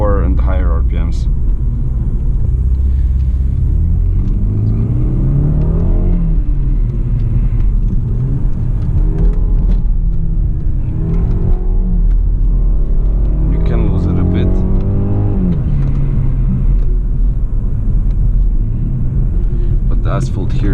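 A 2020 BMW 430i xDrive with the B48 engine and active sound accelerates under a steady rumbling engine drone, while someone talks over it throughout.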